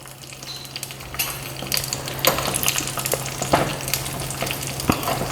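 Cashew nuts and raisins fry in hot fat with a crackling, popping sizzle, and sharp spoon clinks and stirring strokes come through at intervals.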